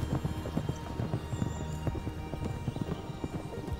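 Horses gallop hard in a riding race toward a lakeside finish, a dense, steady rumble of hoofbeats with an occasional whinny mixed into a busy, continuous din.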